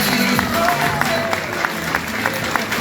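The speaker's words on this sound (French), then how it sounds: "applaudissements pour les candidats, s'il vous plaît" Audience applause for pageant candidates at a traditional-dress parade in Mauritius, a steady wash of clapping with a few sharper claps standing out, mixed with crowd murmur and faint background music.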